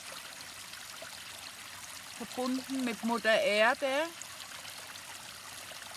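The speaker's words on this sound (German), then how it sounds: "Ihr seht auch hier diesen Fluss." A flowing river gives a faint, steady rush of water in the background while someone speaks calmly over it for a few seconds.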